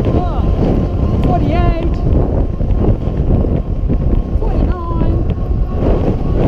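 Loud wind buffets a rider at speed on a 250 W Bafang Max Drive electric mountain bike on the road, a rough, close roar against the microphone as a man counts aloud over it.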